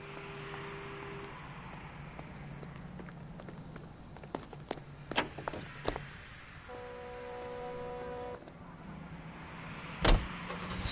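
Car engine running steadily while driving in L.A. Noire, a low continuous drone under scattered sharp clicks and taps, a brief tonal chime midway, and one loud thump near the end.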